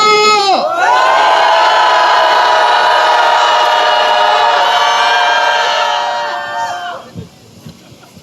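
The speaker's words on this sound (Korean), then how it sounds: "다들 함성 5초간 발사!" A loud crowd at a Korean anti-poverty day rally shouts and cheers together in one sustained roar for several seconds, then trails off into scattered voices.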